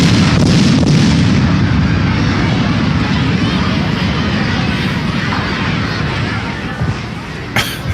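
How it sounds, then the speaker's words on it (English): A fireworks sound effect played during a live 4th of July show, a loud continuous rumbling roar of dense booms and crackle that holds steady and fades slightly toward the end. "I forgot the fireworks"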